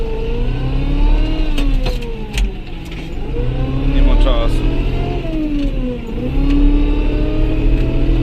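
A Massey Ferguson 3635 tractor stuck in deep snow revs its engine repeatedly, the pitch rising and falling in loud, strained surges, while someone talks over the continuous rumble.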